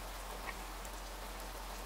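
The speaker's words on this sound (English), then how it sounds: "Oh, it's a nice rainy day. In the morning in the game." Steady rain falls in the Fallout 4 video game on a morning, a soft, even hiss of drops with no voices over it.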